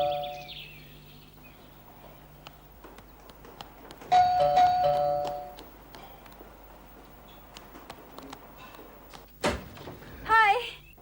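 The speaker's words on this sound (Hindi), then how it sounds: "डोरबेल सुनते ही मैं समझ गई थी कि तुम हो" A doorbell at a home rings once with a clear tonal chime partway through, moderately loud against a quiet room, with voices speaking around it.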